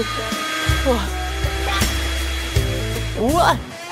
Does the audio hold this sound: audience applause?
no